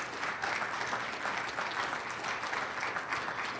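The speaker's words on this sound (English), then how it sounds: "can we just have another round of applause for these three" Audience applause at a survivor presentation event, a dense, steady burst of clapping from a sizeable crowd, close and sustained for a few seconds with no voices over it.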